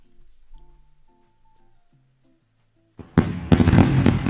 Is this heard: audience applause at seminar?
no